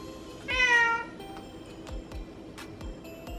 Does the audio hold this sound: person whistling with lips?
no